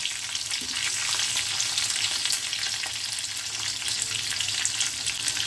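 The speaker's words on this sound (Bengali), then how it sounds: "দুটো কাঁচা লঙ্কা দিয়ে দিচ্ছি। অবশ্যই ফেলে দেবেন তেলের উপরে।" Black cumin seeds and two green chillies sizzle in hot oil, giving a loud, dense, continuous frying hiss with close crackle throughout and no talking.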